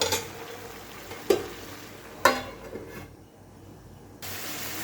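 Pumpkin stem and prawn curry stirred in a pan over the heat, a low steady sizzle broken by two sharp scraping clacks of the spoon, then a short quieter spell before the frying hiss comes back.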